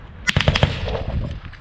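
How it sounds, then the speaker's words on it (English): A PKM machine gun fires one short, rapid burst of several loud, close shots during a drone-hunting field exercise, followed by a brief echoing tail. "he's going to fire a burst when he sees the signal"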